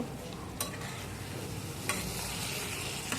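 Fried potatoes are stirred in a pan of pabda fish curry with tomato, with a low continuous sizzle and a few sharp scrapes of the spoon against the pan, heard alone.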